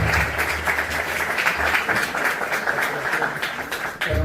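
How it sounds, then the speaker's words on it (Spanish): Audience at a pastoral health conference gives a dense round of applause that holds at an even level, then begins to thin toward the end. "Un aplauso."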